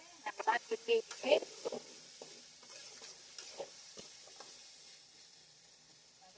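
Potatoes with turmeric, salt and chili powder sizzle quietly in a pan while a utensil scrapes and stirs in a few quick strokes, then the frying hiss continues softly.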